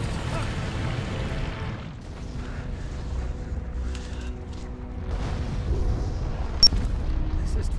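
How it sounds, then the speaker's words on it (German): Explosions in Lego The Lord of the Rings, a rolling series of booms and rumbles with a dense low-frequency roar, a brief lull, then renewed blasts and one sharp crack near the end. "Alles explodiert."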